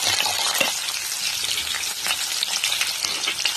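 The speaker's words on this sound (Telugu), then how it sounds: "తాలింపు కొంచెం వేగిందండి. ఈ టైంలో మనం కట్ చేసుకున్న ఉల్లిపాయ, పచ్చిమిరపకాయలు వేసుకుందాం." Onions and green chillies drop into hot tempering oil for a bottle gourd curry, giving a loud, steady sizzle and crackle that runs unbroken throughout with no talking.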